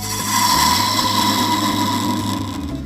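A carbide cutter works a resin blank spinning on a lathe, giving a loud, steady scraping hum with a fast repeating chatter over the motor's constant tone.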